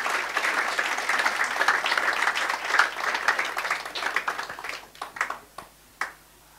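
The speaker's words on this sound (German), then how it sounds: "Gib dem Herrn einen Applaus." A church congregation claps for the Lord during a bilingual service, a dense round of applause that thins out toward the end into a few scattered, distinct last claps.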